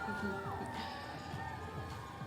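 A Fort Worth Parade of Lights crowd cheers for Uplift Ascend cheerleaders, with distant, moderately faint whoops and shouts over a broad crowd roar.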